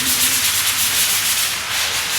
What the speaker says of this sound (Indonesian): dilakukan proses pengamplasan pada tembok tersebut